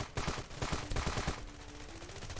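Rapid LMG machine gun fire from the video game Ravenfield, a loud, steady stream of close shots for about a second and a half that then thins into sparser firing.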